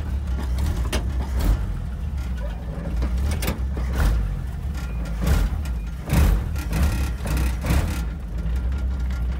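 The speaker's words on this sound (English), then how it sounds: "I just kind of wanted to go for a drive in the old Bel Air" A 1956 Chevrolet Bel Air rolls along with a steady, deep engine drone and road rumble heard from inside the car, with occasional bumps and knocks over the continuous hum.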